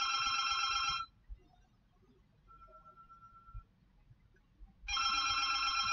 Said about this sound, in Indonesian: Ada telepon yang harusnya diangkat oleh